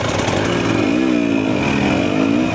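Husqvarna TE300 dirt bike pulling hard in second gear, its two-stroke engine buzzing loud and close with a rising, wavering pitch throughout.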